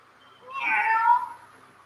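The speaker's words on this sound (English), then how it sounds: "I heard a kitten" A kitten meows from inside a big garbage container, a single drawn-out cry lasting about a second, moderately loud and fairly close, with quiet surroundings before and after.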